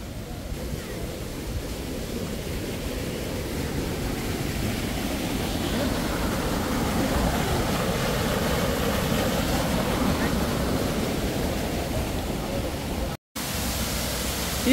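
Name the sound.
waterfall at Plitvice Lakes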